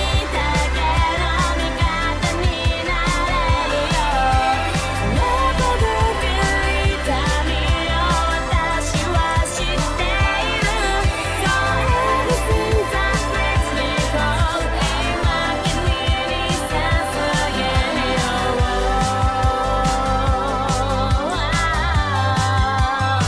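A dense, full song mix from a music project, with a counter melody woven through and looped vocals in the chorus, playing continuously and loud with steady beats and no talking.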